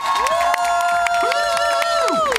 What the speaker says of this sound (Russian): Давайте его бурными аплодисментами поддержим.